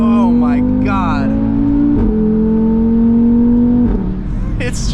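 An Audi RS3 with a loud exhaust revs hard under acceleration, the engine note climbing steadily, briefly dipping at a shift, then rising again, loud and close inside the cabin while a voice talks over it.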